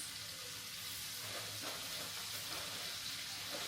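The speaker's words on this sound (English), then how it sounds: "I don't want it to burn while I'm sauteing these vegetables. So I'm just adding in a little bit more onions" Onions with bell pepper and celery sauté in a pan, giving a steady, soft sizzle and faint crackle with occasional stirring scrapes, close but low in level, with no talking.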